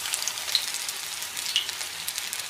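Battered fish pieces for tacos laid into oil heated to about 205–210 °C with tongs, giving a steady, close sizzling hiss with small pops and crackles throughout.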